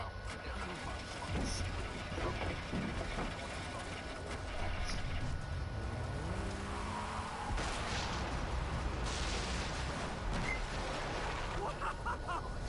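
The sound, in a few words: explosion in the video game Far Cry 3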